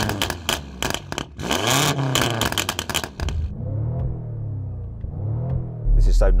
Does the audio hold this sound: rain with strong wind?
no